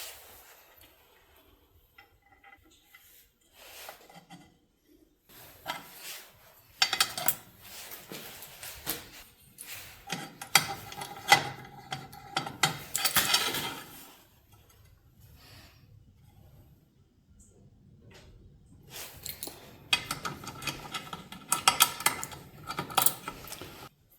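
Metal clamps being set and tightened on a tractor battery compartment cover in a workshop, heard as bursts of clanking, ticking and scraping metal contacts with quiet gaps between them.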